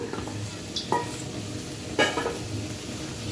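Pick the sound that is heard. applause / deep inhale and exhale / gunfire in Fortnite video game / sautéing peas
sautéing peas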